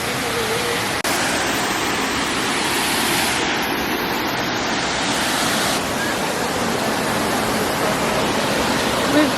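Steady, loud broadband roar of a waterfall heard up close, continuous throughout with no break, the rushing water masking any other sound.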